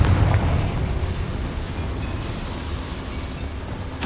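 Confringo fire spell blasting in the game Hogwarts Legacy inside a small mine, a heavy low rumbling boom that rolls on steadily for several seconds, followed by a brief sharp crack at the end.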